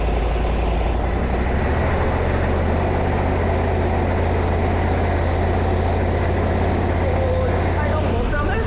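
A Harbor Freight Predator 670 engine fitted to a Toro mower runs loud and close in a steady, throbbing drone that holds at a constant level, with voices faintly underneath.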